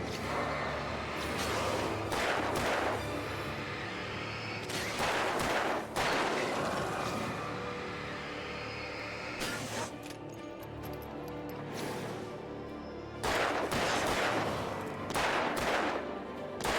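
Guns fire in the Alan Wake video game in loud, repeated bursts with quieter gaps between them. Each volley is sharp and broadband, and several clusters recur over about seventeen seconds.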